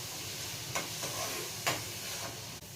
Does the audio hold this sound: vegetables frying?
yes